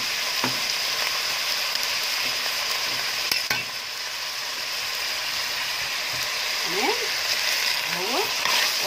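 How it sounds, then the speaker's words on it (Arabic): Meat frying in a pot after salt, black pepper and sugar go in for a dried-bean stew: a steady, close broadband sizzle with scraping stirring strokes, a clatter near the middle and a quick run of utensil scrapes toward the end. "ايه اديهم تقليبه بس واحده"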